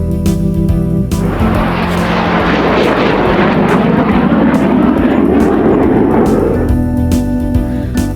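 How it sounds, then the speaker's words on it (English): A fighter jet flies past with a loud, steady roar that swells and rushes through the middle before easing off, a whooshing engine noise with no voices. "Fly the fighter jet."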